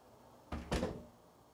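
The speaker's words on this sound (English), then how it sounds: "the smart door will then again close." A smart door shuts on command from a Zemismart ZMR4 remote switch, giving two quick close thuds a fraction of a second apart, the second heavier, then a short fading rumble in a quiet room.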